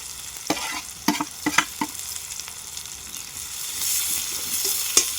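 Onions sauté in oil for a prawn gravy, a steady sizzle that swells louder near the end, broken by a handful of sharp scraping knocks of a spoon against the pan, close by.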